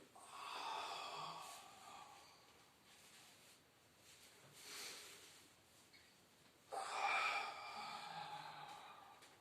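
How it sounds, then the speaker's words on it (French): A person breathes in and out during a Pilates abdominal exercise: soft, airy breaths close by, a quiet inhale followed by a longer, louder exhale near the end. "Inspire, expire."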